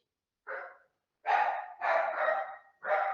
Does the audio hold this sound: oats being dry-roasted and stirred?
no